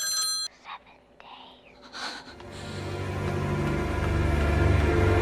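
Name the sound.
telephone ringing in horror movie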